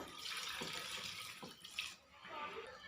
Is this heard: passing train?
no